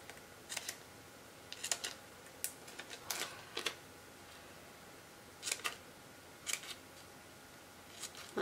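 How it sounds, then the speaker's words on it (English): Blade slicing short slits into a vinyl decal meant to wrap around a curved mug, several quick crisp snips in uneven bursts, close and clear against a quiet room. "I'm going to cut some lines into it"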